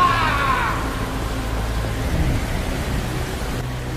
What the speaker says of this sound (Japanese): 千年に一度の大嵐だ